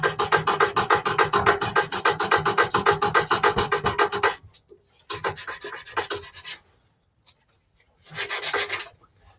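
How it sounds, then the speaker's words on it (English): A wooden heart-shaped gift box being sanded with 120-grit paper while it spins on a lathe, giving a rapid rhythmic rasping in long close bursts separated by pauses. "Now you can spend more time on your sanding"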